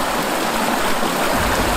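Water gushes strongly and continuously from a homemade ram pump, a dense, close, steady rushing and splashing with no breaks.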